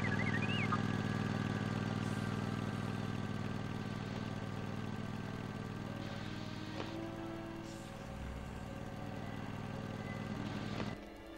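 A junk tractor vehicle in Lego Star Wars II: The Original Trilogy runs its engine in a swamp level, a steady rumbling drone with a few faint game effects over it until it cuts off near the end.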